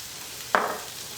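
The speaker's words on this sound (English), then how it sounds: "All right, we're gonna let those saute, keep an eye on them." Vegetables seasoned with black pepper, salt and garlic powder hit a hot flat top griddle, giving one sudden sizzling burst that then settles into a softer, steady fry, close and fairly quiet, with no talk.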